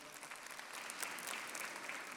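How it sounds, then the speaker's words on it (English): A church congregation applauds during a sermon. The steady clapping is faint and distant and lasts a couple of seconds without pause. "Yeah, you can clap for that."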